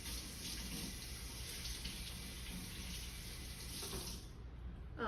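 A kitchen faucet runs water into a container to rinse it out, a steady moderate splashing flow lasting about four seconds before tapering off.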